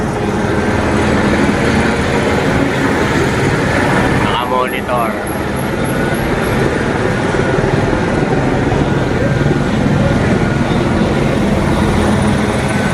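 A police helicopter passes overhead with a steady, loud rotor and engine drone throughout, heavy and continuous, while a person speaks over it.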